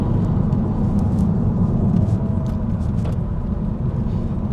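A Renault Megane RS 275 Trophy pulls hard out of corners, its engine a steady, heavy low rumble heard from inside the cabin, with faint clicks and knocks over the drone and no talking.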